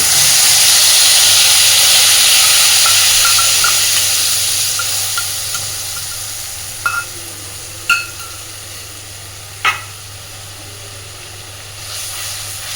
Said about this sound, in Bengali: খুব ভালোভাবে একদম মিডিয়াম ফ্লেমে মশলাটাকে ভালোভাবে আগে কষিয়ে নেবে